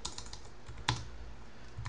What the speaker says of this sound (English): So I'm going to start with the first one. That is by typing out sudo